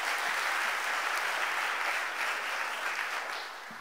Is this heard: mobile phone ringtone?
no